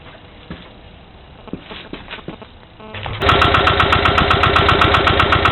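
Diesel engine of a Pasquali articulated tractor: quiet rustling and faint knocks, then the engine catches and runs at a steady, loud, close idle with an even rapid chug.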